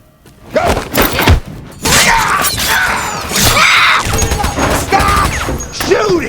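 Chaotic film-scene gunfire, loud bursts of shots and crashing impacts piling up after a brief opening cry, with shouting mixed through the clamor.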